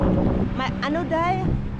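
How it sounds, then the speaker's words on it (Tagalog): Wind rumbles and buffets the microphone in a low, steady roar while a person talks over it nearby. "Mahangin siya day, mahangin."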